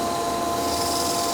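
Sandpaper rubbing against the end of a wooden turning spinning on a lathe, a steady close abrasive hiss with a faint motor hum underneath, continuous and alone.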